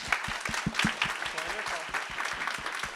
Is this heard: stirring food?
no